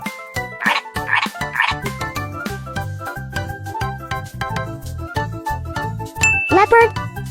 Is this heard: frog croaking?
yes